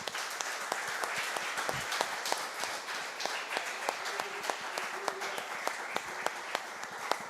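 Congregation in a church applauding, a steady dense wash of many hands clapping throughout at moderate distance, with a faint voice briefly surfacing partway through.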